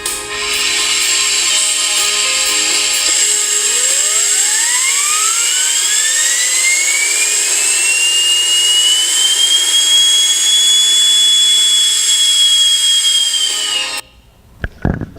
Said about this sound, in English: we tested this engine in a test cell at GE Aviation in Evendale.